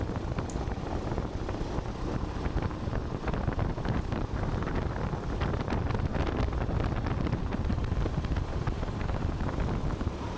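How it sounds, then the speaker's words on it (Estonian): Wind buffets the microphone at a rental kart track during a Rapla GP race, a steady rough roar with gusty bursts that lasts throughout. "Tuul siin jälle veits tõmbab mind."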